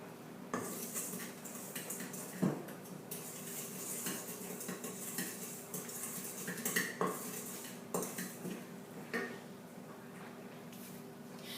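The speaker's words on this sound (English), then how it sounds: "And stirring that together with a wooden spoon." A wooden spoon stirs yeast and salt in an empty mixing bowl, giving soft irregular scraping and knocking against the bowl, fairly quiet and close.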